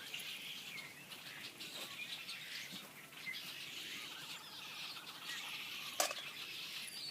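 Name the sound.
birds chirping and flapping wings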